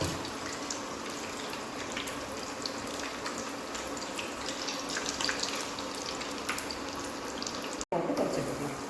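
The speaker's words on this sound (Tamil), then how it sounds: "போட்டு பொரிச்சு எடுத்துக்கலாம்." Raw banana bajji, slices dipped in batter, fry in hot oil with a constant close sizzling hiss and scattered crackles, broken by a sudden cut near the end.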